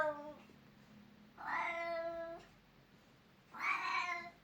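A house cat meows twice, in a cold unheated home, each call drawn out and fairly close, with a quieter vocal sound at the start and a hushed room between the cries.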